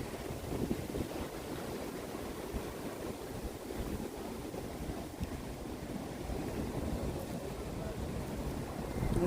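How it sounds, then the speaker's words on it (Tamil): Strong wind blows at a beach with waves breaking on the sea, a steady broadband roar and buffeting close to the microphone throughout. "நல்லாவே காற்று அடிச்சிட்ருக்கு."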